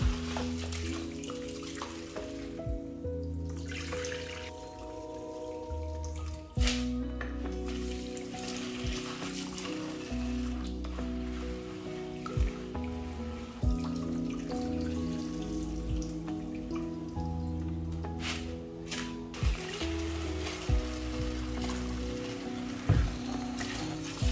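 Water sloshing and splashing as selected kamande lentils are washed by hand, a steady close wet churning with occasional drips and small splashes throughout, no voices.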